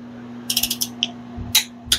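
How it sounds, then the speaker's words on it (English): A torque wrench ratcheting as bolts are tightened to 45 pounds while a piston is installed. Several quick clicks come in a short burst, then a few isolated clicks follow after brief pauses, close and fairly clear, with no talk. "we're just going to torque these 45 pounds."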